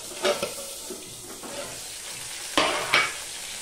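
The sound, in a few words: fish frying in oil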